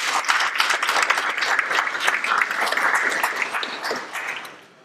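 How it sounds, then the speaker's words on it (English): An audience at a church development committee's general meeting claps together, a dense patter of hands holding steady for several seconds before tapering off at the end. "Let's give them a round of applause for joining."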